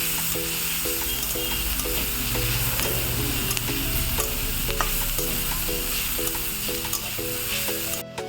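Bottle gourd peel and potato sizzling in a pan with oil while being stirred, a steady crackling fry broken by repeated rhythmic scraping strokes of the spatula, close and continuous with no talking.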